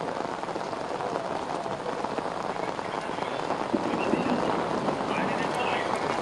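Heavy rain pouring down in Hyderabad, a dense, steady hiss of drops drumming on surfaces close by, swelling slightly toward the end with no voices.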